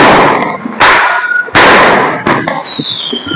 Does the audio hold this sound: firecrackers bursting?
yes